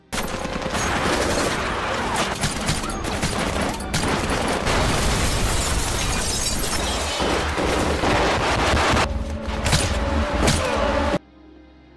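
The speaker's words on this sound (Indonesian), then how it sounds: "Baku tembak yang sengit pun kembali terjadi." In a film, attackers assault a church with dense, continuous bursts of gunfire and booming explosions for over ten seconds, loud and close, ending with an abrupt cut.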